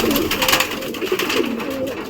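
A pigeon coos close by in a low, rolling, repeated call that carries on steadily for about two seconds.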